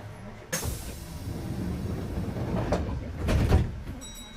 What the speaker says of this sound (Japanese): 扉が閉まります。 ご注意ください。